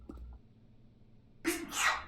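A single sharp sneeze bursts out after a quiet, near-silent stretch, close and loud, with a breathy intake just before it.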